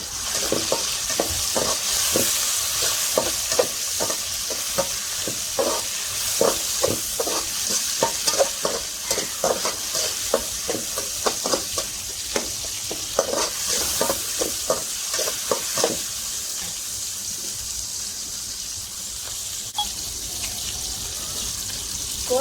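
Ginger being stirred into a fish curry frying in a pan, loud close sizzling with rapid rhythmic scraping and clinking of a spoon for most of the stretch, then easing into a steadier hiss near the end.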